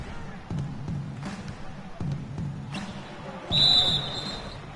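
A referee's whistle in the NBA 2K basketball video game gives one short, sharp blast after sneaker squeaks and ball bounces, while a commentator talks over the arena noise.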